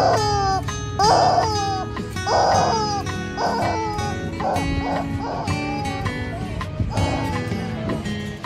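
Repeated dog barks and yelps, some whiny and high-pitched, loud and close, in a busy run with brief gaps, in Key West, Florida.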